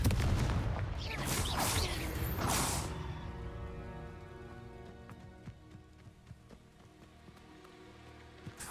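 Confringo spell blast in a video game, a burst of crackling explosive noise for about three seconds that quickly fades into quiet ambient tones with faint ticks.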